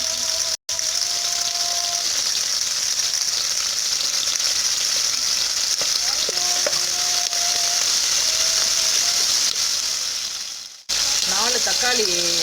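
Curry leaves spit and crackle in hot oil for a Karaikudi fish curry, a loud, dense sizzle running steadily throughout, briefly cut off twice.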